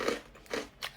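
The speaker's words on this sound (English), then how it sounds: "These are rice cracker chips." Crisp, crunchy bites into rice cracker chips from Taiwan, three distinct close crunches in quick succession with no talking.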